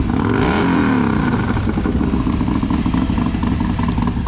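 A Harley-Davidson Milwaukee 8 motorcycle with an aftermarket exhaust revs hard up close, a loud continuous rumbling roar with a rising rev near the start that then settles into a heavy, throbbing idle-like drone.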